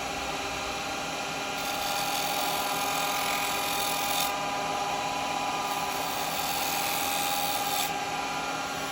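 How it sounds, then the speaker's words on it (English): A spindle gouge cuts a lidded wooden box spinning on a lathe. A steady, loud rasping hiss of tool on wood runs continuously over the low hum of the machine. "So I'm just going to use a spindle gouge for it."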